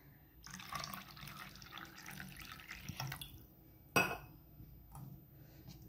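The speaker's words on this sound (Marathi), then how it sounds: "यामध्ये आपण 1 वाटी पाणी घालायचं" A small bowl of water poured into a besan and sour curd kadhi mixture, a splashy trickling pour of a few seconds followed by a sharp clink and brief stirring, close and fairly quiet with no talk.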